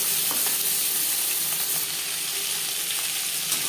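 Marinated katla fish pieces frying in hot oil, a dense, even crackling sizzle that holds steady throughout, near and fairly loud, with no talking.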